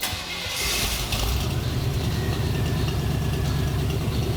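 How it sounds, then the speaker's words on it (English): A Chevy C10 engine idles after a cold start with a steady, low, rhythmic rumble that holds even and close throughout, after a brief rise at the start. "after you have the vehicle idling for a little bit"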